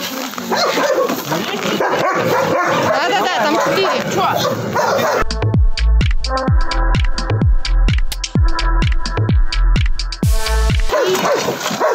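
Several dogs at an animal shelter bark and yip in a rapid, loud, overlapping series, with a voice speaking amid the noise before the barking dominates.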